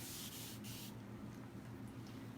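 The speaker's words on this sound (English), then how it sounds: "And I spray them with a good amount of spray." Shine spray misted onto a dog's coat during grooming, heard as two or three short, hissy spritzes close by in a quiet room.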